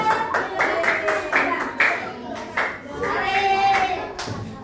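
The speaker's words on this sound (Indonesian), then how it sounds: "Tepuk tangan untuknya." Fourth-grade pupils in an Indonesian classroom clap in rhythmic bursts, a few uneven rounds of sharp hand claps close by with children's voices mixed in between.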